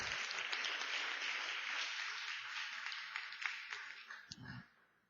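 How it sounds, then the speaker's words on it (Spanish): A church congregation applauds during a Spanish-language sermon, dense sustained clapping that thins out and fades to silence near the end. "Dale un gran aplauso al Señor"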